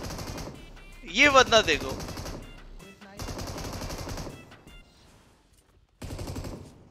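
An M249 machine gun fires in a video game, several loud bursts of rapid automatic fire separated by short pauses, with someone talking over part of it.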